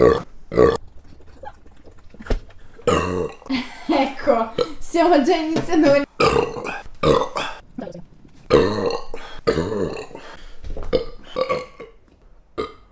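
Loud, repeated burps from a man drinking a large amount, coming in quick bursts close to the microphone and mixed with his talking and some laughter.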